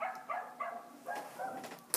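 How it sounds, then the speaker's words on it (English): A dog barks indoors several times in a row, short moderately loud yaps spaced about half a second apart, with no talk over them. "That dog!"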